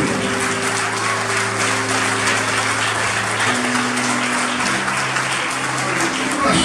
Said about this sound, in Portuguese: Vamos ficar de pé mais uma vez e vamos aplaudir ao Senhor